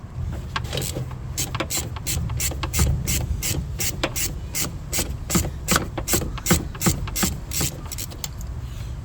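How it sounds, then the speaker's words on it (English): A hand ratchet clicks rapidly and repeatedly while undoing 13mm nuts on a brake setup, producing a close, crisp series of pawl ticks with some rubbing in between. "I'm going to undo these now. 13mm."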